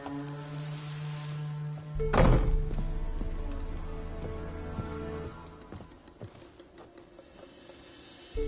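Roach the horse's hooves in The Witcher 3 game, a steady clip-clop of footfalls with a sharp thud near the start, heard over a quieter ambient music bed.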